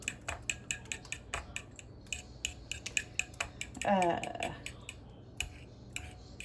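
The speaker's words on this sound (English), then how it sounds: "I'm just going to lightly whisk these eggs up" Eggs lightly whisked in a bowl for a homemade quiche, a steady run of quick metallic clicks and taps against the bowl, close and moderately quiet, with a brief rougher scraping burst in the middle.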